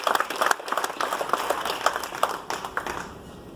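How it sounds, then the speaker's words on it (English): Audience applause at a veterans ceremony aboard the cruise ship Carnival Dream, a steady crowd clapping for the national anthem singer, moderately close and fading slightly toward the end, with no talking. "Please give us a big round of applause for our singer over here of our national anthem"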